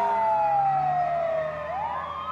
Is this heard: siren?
yes